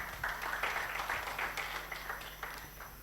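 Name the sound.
audience applauding a panel speaker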